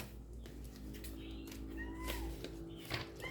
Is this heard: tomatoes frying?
no